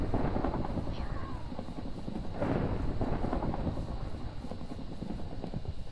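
Thunder rolls from lightning in the Pixelmon Minecraft game, a steady rumbling wash with one louder crack-like swell, continuous and fairly loud throughout, with no voices.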